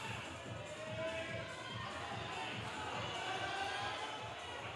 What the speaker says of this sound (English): Crowd urging her on.